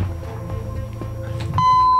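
A steady electronic quiz timer beep sounds loudly and continuously after a low humming background, a single sustained tone.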